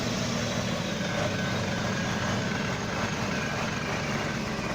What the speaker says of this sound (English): All the clanking noise there.